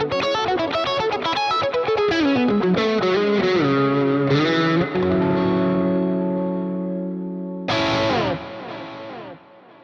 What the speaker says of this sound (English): I used amplifier 2 for a crunch lead tone in the middle section